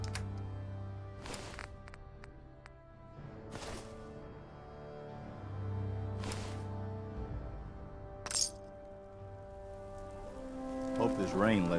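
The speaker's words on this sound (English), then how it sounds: "Hope this rain lets up soon." Rain falls steadily in the video game Fallout 4, a soft continuous hiss beneath a game music drone, with occasional sharper clinks and effects over it.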